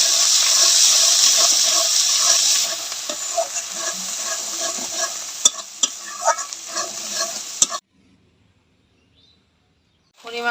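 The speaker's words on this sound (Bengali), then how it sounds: "1 চামচ ধনিয়া গুঁড়া, 1 চামচ মরিচের গুঁড়া দিয়ে মশলাটা ভালো করে কষাই নেব।" Spice paste with coriander and chili powder frying in oil for a catla fish dopiaza, a loud bright sizzle with stirring clinks that fades and cuts to near silence before the end.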